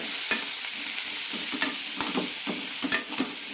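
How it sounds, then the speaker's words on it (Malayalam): Radish pieces sautéing in a little oil, a steady soft sizzle with a few sharp stirring scrapes and clinks against the pan, close and alone with no talk. "ഇതിലേക്ക് മുള്ളങ്കിയുടെ പീസസ് ഇടാം നന്നായി വഴറ്റിയെടുക്കാം"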